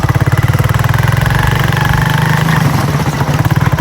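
A motorcycle engine idles close by, a loud, steady, rapid thumping pulse that holds evenly for several seconds with no voices over it.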